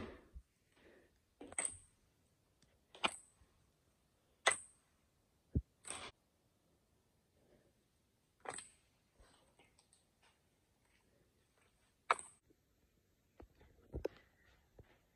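Thick no-glue slime made from a blend of different soaps gives off sparse, sharp clicks and pops as it is pressed and stretched, quiet and isolated, with near-silence between bursts and no talking.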